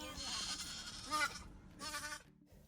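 A couple of goats bleat nearby, one wavering cry followed by a shorter one, with a person talking faintly underneath.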